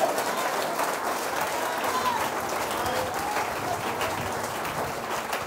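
Sustained applause from a church congregation fills the room, steady dense clapping without a break, with faint voices mixed in.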